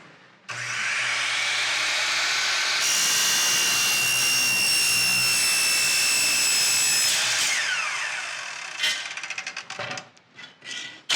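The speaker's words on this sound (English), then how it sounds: "make sure that the saw is all the way spooled up, and then go nice and slow" A power saw whines up to full speed, then cuts through trim with a long, loud, steady high-pitched scream, winding down afterward into scattered clatters and knocks.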